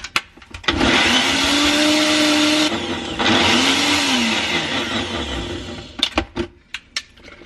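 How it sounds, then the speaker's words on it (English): A kitchen blender whirs loudly for several seconds blending keto pancake batter, its motor pitch shifting as it runs, then cuts off and leaves a few clattering knocks. "This is my blender."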